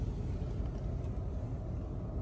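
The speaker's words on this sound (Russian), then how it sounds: "Сейчас двигатель у нас запущен, работает идеально ровно, без посторонних шумов" A 2016 Toyota Camry engine idles evenly with a soft, constant low rumble and no knocks or other stray sounds, heard close by and quiet.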